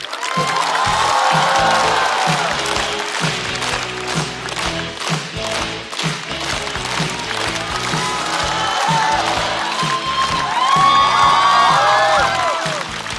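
A stand-up comedy show audience breaks into loud, sustained applause and cheering. Dense clapping fills the whole stretch, with excited shouts and whoops rising over it, especially toward the end.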